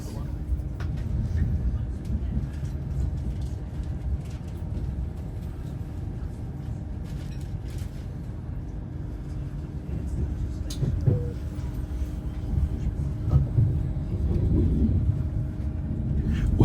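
A GWR Class 802 IET train running on the line to Derby, heard from inside as a steady low rumble and hum that swells slightly toward the end, with faint mechanical ticks and no voices.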